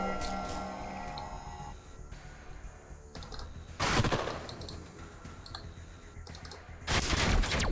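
Turret gunfire in the sci-fi strategy game Age of Wonders: Planetfall: two loud, dense bursts of automatic fire, the second one near the end, rising over a steady layer of game ambience and music.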